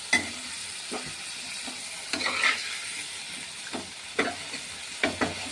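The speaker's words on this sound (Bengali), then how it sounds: "এই যে সর্ষে বাটা দিচ্ছি।" Mustard paste goes into tangra fish frying in a pan, giving a soft, continuous sizzle broken by repeated light stirring scrapes, all fairly quiet and close.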